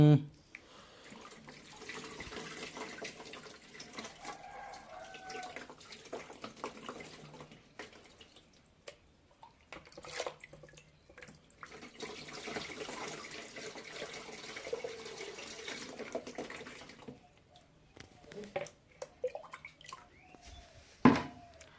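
Water pours and splashes steadily into an air cooler in two long stretches, with a short pause between and faint voices around it.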